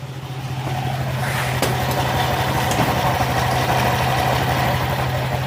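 An engine with its pulley attached idles with a steady, low droning hum, loud and close, unchanging throughout.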